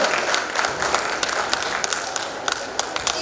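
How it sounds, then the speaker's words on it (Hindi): Dense, loud applause from an audience at a folk art festival award ceremony in Brahmapur, steady crowd clapping with crisp individual claps standing out throughout. "तापे गोटे जोरसोर ताली हो"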